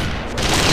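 A bomb going off in Metal Gear Solid: The Twin Snakes, a short loud burst of blast noise that swells and rumbles through the brief moment.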